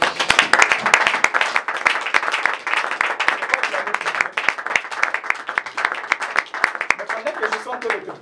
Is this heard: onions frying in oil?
no